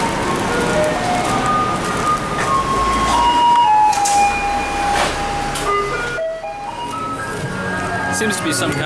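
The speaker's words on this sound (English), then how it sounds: "Seems to be some kind of an alarm to let people know to come take their trash out." Musical alert tune from a garbage truck passing through a street in Keelung, Taiwan, a loud electronic melody of held notes over traffic rumble, with voices and street noise around it.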